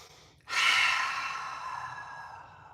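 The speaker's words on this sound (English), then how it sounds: "Breathe." A deep, forceful inhale drawn in close after a short quiet pause, during a yoga breathing exercise, then held and slowly fading over two seconds.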